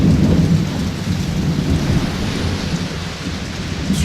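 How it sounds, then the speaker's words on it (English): Heavy rain pours steadily at a lighthouse in the video game Ether One while low thunder rumbles underneath, a continuous dense storm wash with no voices. "So you're obviously in a storm."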